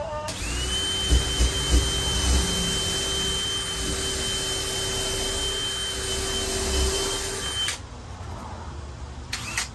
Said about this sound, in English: we're pre-drilling that so we don't bust out the 2x4